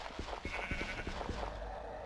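Sheep bleating in a Terraria and Minecraft crossover video game, a quick run of short repeated bleats over a steady background hum, fairly faint and with no speech.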